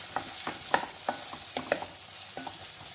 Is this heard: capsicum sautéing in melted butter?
yes